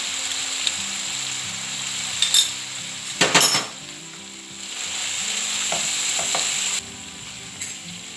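Soya meat sizzles in a pan as chilli powder, salt and spices are stirred in, a steady frying hiss broken by a few metallic clinks and scrapes of a spoon against the pan.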